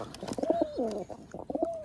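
Domestic pigeons coo in a rooftop pigeon loft, with several close, repeated soft rolling calls overlapping one another and no talking.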